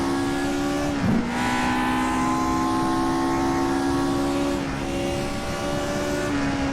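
Vintage Formula 1 race car with a five-speed gearbox sliding through corners on a track, its engine droning steadily close by, with a brief dip as it shifts or lifts off and a long sustained pull after.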